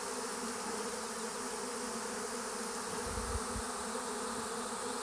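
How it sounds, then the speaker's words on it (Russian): A large swarm of honey bees flies in the open air around a branch during swarming, giving a steady, dense buzzing drone throughout, with a brief low thump near the end. "Это еще сколько пчел в воздухе летает."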